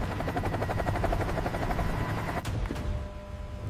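Military helicopter in flight, its rotor thumping in a fast, steady rhythmic chop close by, with a couple of sharp clanks near the end over a continuous engine roar.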